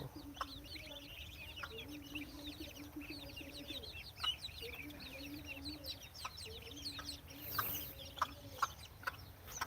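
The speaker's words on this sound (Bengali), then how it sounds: "হাঁসের ছাও হাঁসের ছাও এ হাসের ছাও" Soft, high peeping chirps repeat continuously from ducklings, with occasional lower clucks and coos nearby and a few faint knocks in the background, on a poultry farm in Mymensingh.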